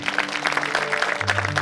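Applause from a congregation at a church meeting in Chiropara, Surguja, brisk many-handed clapping close and loud, with a low musical tone sustained underneath and no speech.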